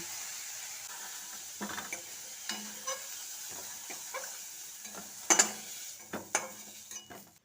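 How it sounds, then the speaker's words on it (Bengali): Lightly fried cauliflower being scooped out of a pan into a bowl, quiet sizzle under scattered spatula scrapes and metallic taps, with a louder clatter near the end. "এবার ফুলকপিটাকে একটা পাত্রে তুলে নিচ্ছি"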